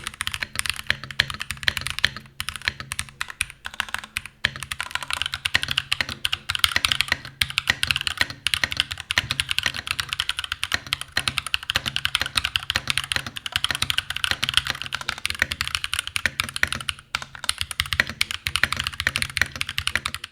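Steady, fast typing on a NuPhy Halo65 mechanical keyboard fitted with silicone dampening between the plate and the PCB. Dense, even keystrokes clatter continuously up close, with no voices.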